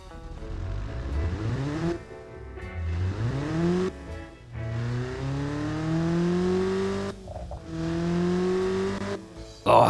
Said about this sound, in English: Oh, lots of burble and backfire.